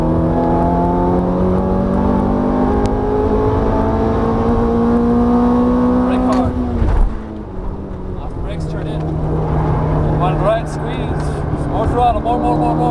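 Ferrari F430 F1 under full throttle on a track, heard from inside as a loud rising engine howl that climbs, breaks off at a gear change and builds again, with voices talking over it.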